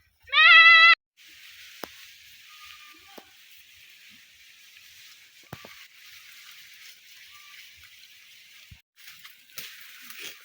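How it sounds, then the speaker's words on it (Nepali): Goats herded by herders outdoors, one clear close bleat at the start followed by a steady faint hiss of background noise with occasional clicks and a few distant calls. "गोठालो बाख्रा खेदाको छौ त नि।"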